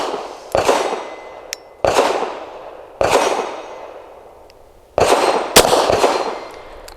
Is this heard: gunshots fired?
yes